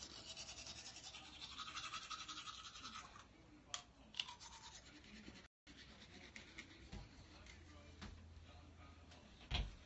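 Toothbrush bristles scrub teeth in short, uneven strokes, close and fairly quiet, broken by a few louder knocks and a brief dropout, with faint voices in the background.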